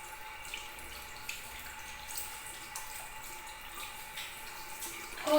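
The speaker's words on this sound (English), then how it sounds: "And then we will wet our hands and wrists thoroughly by holding them under the" Warm water runs steadily from a tap over hands and wrists during handwashing, a soft continuous hiss with a brief louder splash at the very end.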